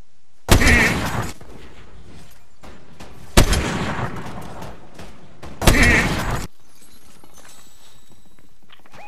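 Sniper rifle shots in a Peter Griffin meme edit: three loud, sharp cracks with ringing tails, spaced about three seconds apart, then quiet low rumble.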